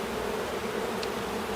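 Honey bees buzz steadily around an opened hive during an inspection, a dense, continuous close-up drone with no talking.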